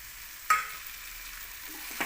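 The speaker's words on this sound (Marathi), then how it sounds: "मिक्स करून घ्यायचं व्यवस्थित." Boiled drumstick pods being stirred in a pan for a dry spiced stir-fry, with one sharp scrape of the spoon, a soft sizzle underneath and a second lighter scrape near the end.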